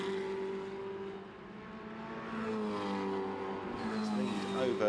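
A monoposto single-seater race car at Brands Hatch passes, its engine note rising and swelling as it approaches, with a race commentator talking over it throughout.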